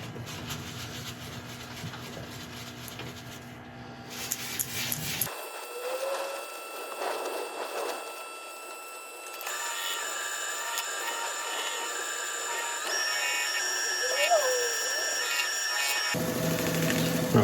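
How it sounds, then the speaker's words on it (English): Abrasive paste cutting back the surface of a turned segmented wooden bowl on a lathe, a continuous whirring motor drone with a scratchy rubbing texture that shifts in tone as the work goes on, no talking. "now we're going to cut back the surface with an abrasive paste"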